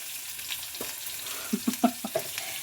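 Onions frying in hot oil for a chickpea curry give a soft, steady sizzle, broken by a handful of brief knocks and clicks near the end.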